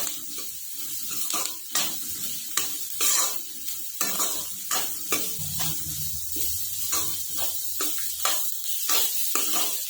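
A spoon stirs dried fenugreek seed pickle with fennel, salt, turmeric and red chilli in a hot pan, giving rhythmic scraping strokes over a low sizzle, close and steady.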